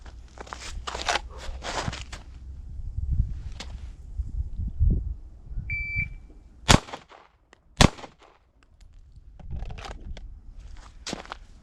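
Handgun shots ring out during a law-enforcement qualification: two sharp, loud cracks a second apart from the low ready, set among shuffling footsteps, clicks and rustling of gear.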